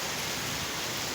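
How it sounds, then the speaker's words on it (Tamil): Heavy rain pours down in Chennai, a dense, steady hiss of water with no breaks, loud and close throughout with no voices. "இந்த மழை நல்லா பெய்யுது. நேற்று இரவிலிருந்து நல்லா மழை பெய்யுது."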